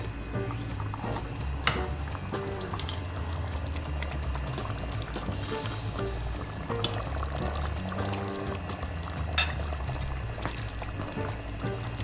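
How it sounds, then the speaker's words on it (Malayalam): Water bubbles and simmers in a pan making the sauce for chicken capsicum, a steady low boiling burble with occasional louder pops, heard close and without talk. "ആവശ്യത്തിന് വെള്ളം ചേർത്ത് തിളക്കുമ്പോൾ"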